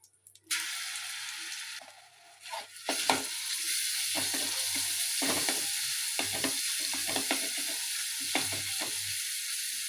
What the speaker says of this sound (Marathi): मी आता आलू लसूण पेस्ट घालते हे बघा